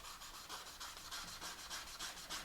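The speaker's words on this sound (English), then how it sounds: "we're just going to take and lightly start sanding this." Someone lightly hand-sands the edge of a Mini Cooper logo sign with 180 grit sandpaper, making quick, evenly spaced rasping strokes, roughly four per second. The sanding is soft and close, and no one speaks.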